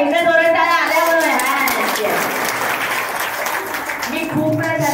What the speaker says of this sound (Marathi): एकदा जोरात टाळ्या आल्याबरोबर.